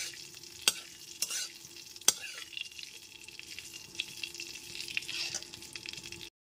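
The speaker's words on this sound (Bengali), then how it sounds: "ফোড়নটা হালকা করে ভেজে নেব।" Whole cumin seeds, a bay leaf and a dried red chili fry in oil over a low flame, giving a soft steady sizzle with a few sharp pops and stirring clicks, close and with no one speaking.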